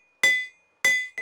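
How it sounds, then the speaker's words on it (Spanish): Two ringing hammer blows strike iron on an anvil while a knife is hand-forged from a piece of iron, each a sharp metallic clang with a long bright ring, followed by a third quicker lighter tap. "El martillo nunca se mueve, el martillo siempre va a dar al mismo sitio."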